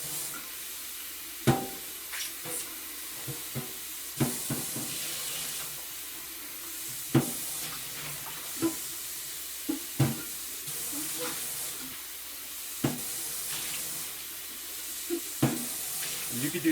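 Water runs and splashes steadily as a Berkey water filter is rinsed under a tap, with occasional sharp knocks and clatters of the filter against the sink, close and moderately loud.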